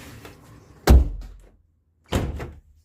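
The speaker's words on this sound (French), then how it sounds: "je vais fermer la porte." An indoor door swung shut twice, each close a solid thud with a short rattle, the second slightly softer, separated by a quiet pause.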